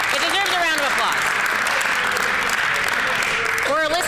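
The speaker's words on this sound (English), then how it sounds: "It deserves a round of applause." Applause fills a legislative chamber in the Manitoba House, steady and dense throughout, with a voice briefly heard over the clapping at the start and again at the end.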